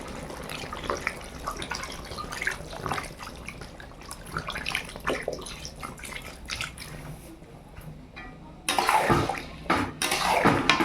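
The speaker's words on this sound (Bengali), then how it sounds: "এবার আমি জল দেব।" Water being added to a pot of well-fried, red village-style chicken curry, a steady splashing pour that swells louder near the end, with faint background voices.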